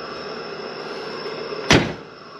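A single solid Porsche 914 car door thumps shut nearby, a short heavy slam over a steady background hum.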